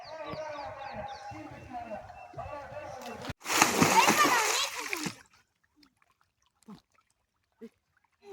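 Children chatter, then a loud burst of water splashing erupts for a couple of seconds before fading to near silence with a few faint drips.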